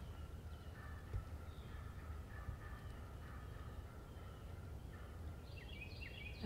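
A wild spurred tom turkey gobbles repeatedly at a distance during a hunt, its rattling calls rising over steady outdoor background noise, with another louder gobble at the end.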